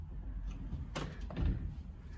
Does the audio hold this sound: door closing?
yes